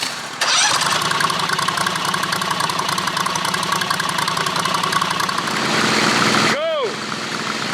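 Riding lawn mower engines, including a 214 model, crank up and settle into a steady, loud mid-pitched idle that runs continuously, with a brief sweep of revving near the end, at a mud tug-of-war.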